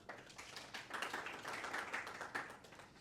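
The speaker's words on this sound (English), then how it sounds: "How about a round of applause for Miley" Applause from a small podcast audience at a film festival, a faint, steady patter of clapping lasting a few seconds.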